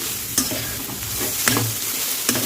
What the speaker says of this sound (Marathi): आपण तीन ते चार मिनिट मस्त नारळ फ्राय करून घेऊ कढईमध्ये